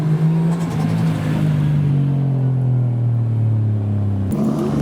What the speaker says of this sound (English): Oh, V8 revs from the Lexus, and then straight 6 revs from the Chaser